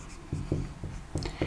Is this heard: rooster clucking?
no